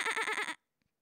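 A human voice imitates a goat's bleat with a close, loud, wavering call of about four pulses in half a second. It ends abruptly and is followed by near silence with one faint tap.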